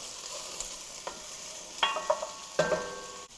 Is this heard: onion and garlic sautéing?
yes